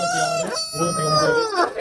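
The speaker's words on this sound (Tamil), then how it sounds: "அருமையான டைகர் சேவல் கொண்டு வந்திருக்காங்க" A rooster crows loudly and close by at a market in Kunnathur, Tiruppur, a long strained call that rises and breaks, heard alone without talk.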